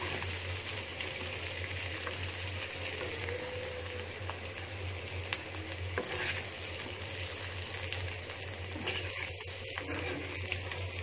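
Spiny gourd pieces fry in a pan with a steady, close hiss and sizzle that holds evenly for the whole stretch, with no voices over it.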